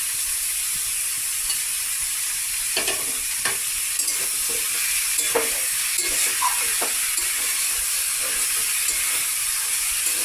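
Boiled jackfruit and fried potatoes sautéing with spices in a pan, a constant loud hissing sizzle broken by intermittent spatula scrapes and soft clacks, close up with no talking.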